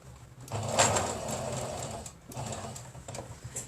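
A sewing machine stitches a small fabric Christmas boot, a close mechanical whirring run that pauses briefly midway and then resumes.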